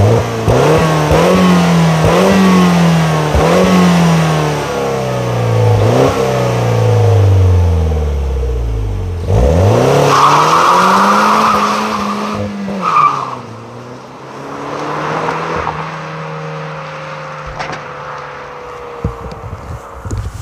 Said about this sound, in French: Tu vas me faire écouter le son moteur à l'arrêt. Et après, tu vas partir comme une balle jusqu'au bout.